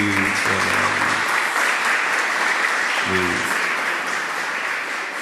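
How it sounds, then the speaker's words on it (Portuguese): A Catholic congregation at Sunday Mass breaks into sustained, dense applause that fills the church for several seconds, with brief voices audible near the start and again partway through. "Vamos aplaudir a Liz"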